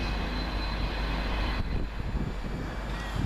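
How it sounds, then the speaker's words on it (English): Class 221 diesel unit 221140 rushes past at Coseley, a loud, sustained broadband roar of engine and wheels that fills the whole short stretch with no break. "as 221140 passes with 1M41 from Bristol Temple Meads to Manchester Piccadilly"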